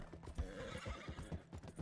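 Horse hooves clip-clopping in a quick rhythm alongside snorting and a whinny in the video game Red Dead Redemption 2, fairly quiet and close, with no talking.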